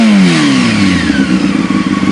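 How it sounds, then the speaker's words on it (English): A motorcycle engine revs up close, the loud rising roar dropping away into a rough, throbbing idle over about two seconds. "I'm gonna go ahead and rev it up real quick"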